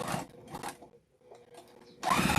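A sewing machine stitches backward to lock a seam on a boxy bag, a few short quiet whirring bursts separated by a pause, then a louder run at the end.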